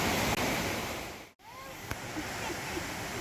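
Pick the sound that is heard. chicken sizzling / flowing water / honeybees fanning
flowing water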